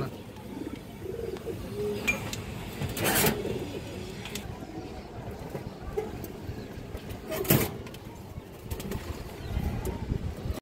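Khaki pigeons kept as a pair, soft cooing and rustling with a couple of brief bursts of wing flapping, close by amid low background noise.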